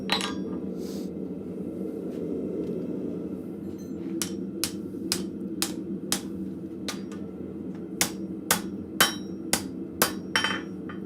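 Hammer blows on a top fuller set on hot steel at a blacksmith forge, working a shelf bracket with hooks. A sharp metallic strike rings out, then a quickening run of close clanging hits over a low forge roar.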